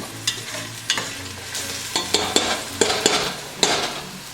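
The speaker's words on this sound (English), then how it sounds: "The popping noise means it's cooking." Irregular popping and crackling bursts over a steady sizzle as meatballs fry in a pan, with a few sharper pops standing out.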